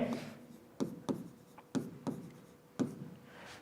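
Pen strokes scratch across paper as numbers are written by hand, a series of short separate scrapes and taps spaced irregularly, close and fairly quiet with no talk.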